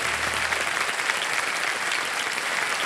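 Strong, sustained studio audience applause on a Hindi TV quiz show set, a dense steady wash of clapping at even loudness throughout with no voices on top.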